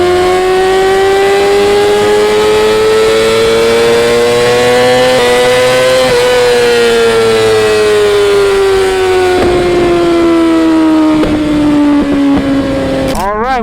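A 2020 Yamaha R6 with a full titanium exhaust screams loudly up close in a tunnel, its high whine climbing and holding as it accelerates, with a brief gear change near the end.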